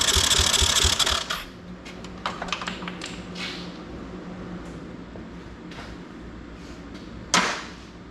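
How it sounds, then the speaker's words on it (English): A hot-wired Honda ATC 200X three-wheeler with low compression cranks over in a loud, rapid, churning burst lasting just over a second, followed by scattered mechanical clicks and a final sharp clack. "I'm going to go ahead and hot wire the bike and get it to spin over for you."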